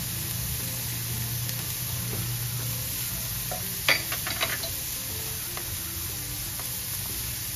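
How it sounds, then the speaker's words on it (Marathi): Cauliflower frying in a pan just used for paneer, a continuous hiss of sizzling with a few brief utensil scrapes and clinks near the middle. "त्याच पॅन मध्ये मी थोडा फ्लावर फ्राय करून घेणार आहे."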